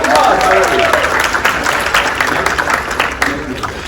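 Audience applause greets a volunteer called up on stage at a leadership growth event, a dense burst of clapping that fills the room and gradually thins, with voices heard over it.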